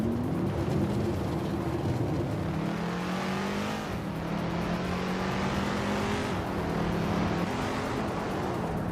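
A 1969 Dodge Charger Hemi and other cars race in a video game, with a continuous loud engine drone that rises in pitch as it accelerates, drops at gear shifts and climbs again.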